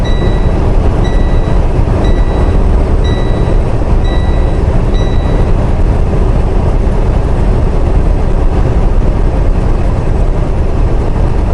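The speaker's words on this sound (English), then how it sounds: "That's the train, the train," Train passing close by, a steady loud rumble and roar filling the whole stretch without a break, with faint tonal squeals near the start.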